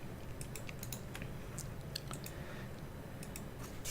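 Computer keys clatter in quick, light clicks while a file name is typed, faint and close over a steady background hiss.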